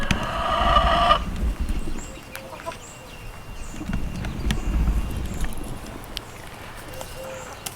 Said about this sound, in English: I'm sitting right next to my chickens, so if that's what you're hearing, they're right there.